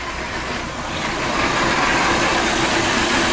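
A car engine idles roughly in a shop during diagnosis of an unstable, heavily vibrating vehicle, a loud, close, steady rumble with no voices.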